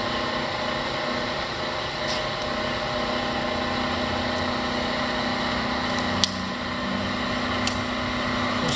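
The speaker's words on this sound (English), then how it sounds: "That's a little bit of gear chatter you're hearing." A Bridgeport 1 HP 9 x 42 inch vertical milling machine running in high gear, giving a steady mechanical whir with faint gear chatter and a few sharp little ticks over the constant hum.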